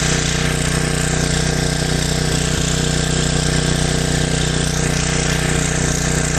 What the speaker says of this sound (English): This is 1200 watts now coming, being drawn from the generator.